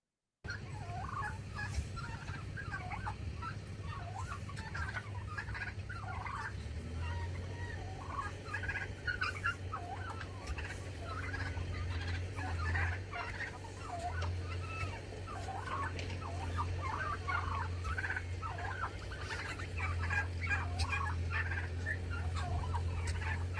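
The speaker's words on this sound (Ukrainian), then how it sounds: "Індюки великі свійські птахи, мають гарне яскраво забарвлене пір'я, пишний великий хвіст" A flock of domestic turkeys gobbles and clucks continuously in a farmyard, overlapping calls in a steady busy chorus at moderate distance, with no talking.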